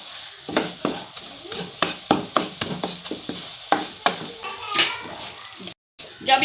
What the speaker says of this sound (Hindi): अब ये डाल देंगे अंडे हम इसमें। ये 2 अदद अंडे डाल दिए हमने। इसे अच्छी तरह से अब इसे हिलाते जाएंगे